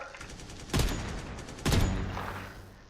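Two sharp, loud gunshots ring out about a second apart in a shooting video game, each with a reverberant tail that slowly fades.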